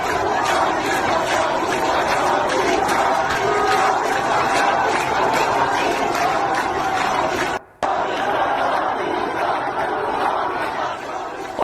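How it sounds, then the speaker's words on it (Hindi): Large crowd at an Iran street protest chanting Shah zindabad slogans, a dense, loud roar of many voices shouting in unison, sustained throughout with a brief cut near the end. "बता दें शाह जिंदाबाद नारे क्यों लग रहे हैं"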